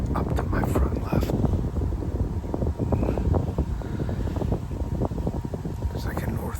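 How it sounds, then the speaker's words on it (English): Northwest wind blows into a thicket during a Pennsylvania deer hunt, a steady low rumbling roar with gusty buffeting against the microphone that continues without a break. "The wind switched a little bit. It's blowing up into this thicket now"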